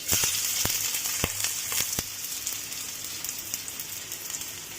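Onion sautéing in heated cooking oil for bitter gourd stir-fry, a continuous close sizzle with a few sharp pops and crackles early on, no talking.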